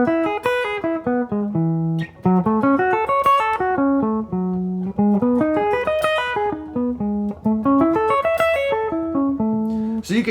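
Electric or acoustic guitar plays the first four harmonized CAGED arpeggios from the major scale, rapid single notes climbing and descending in repeating runs, clear and close with no talking.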